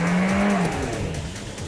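Tuned Audi with an APR tune, roughly 45 extra horsepower, accelerating hard from a standstill: a loud engine tone rises steadily, then drops at a gear change as the car keeps pulling, heard up close with no talk.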